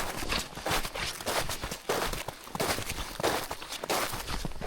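Footsteps tramp through heavy, wet snow at a campsite during a snowstorm, a steady series of soft, slushy crunches close by with no voices.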